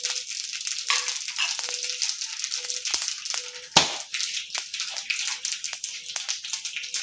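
Cloves, black pepper and cumin crackle and pop as they roast in a pan, a dense run of sharp little crackles with one louder burst partway through, close, with no talking.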